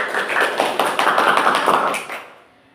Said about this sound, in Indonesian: Beri aplaus buat kita semua.